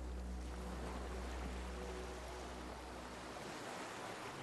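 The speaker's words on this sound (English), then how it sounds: "The skiff is swaying on the waves." Water laps and washes steadily around a small skiff at sea in the video game Disco Elysium, a continuous broad surf-like roar with a low rumble underneath and no voices.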